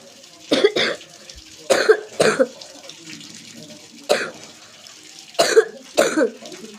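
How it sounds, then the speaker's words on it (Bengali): A person coughs in short bursts, several separate coughs spread across the moment, fairly close and loud, with quiet pauses between them and no talking. "কাশি হয়েছে আমার খুব।"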